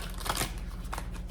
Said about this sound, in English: These are the hardest cards to shuffle.